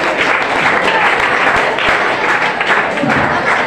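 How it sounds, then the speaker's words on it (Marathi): Loud, steady applause from an audience at a school annual prize-giving ceremony, dense clapping sustained throughout with a few sharper hand claps standing out. "टाळ्या वाजवायचे जोरात"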